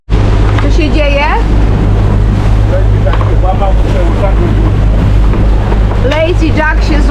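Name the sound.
wind of an approaching squall on a sailboat at sea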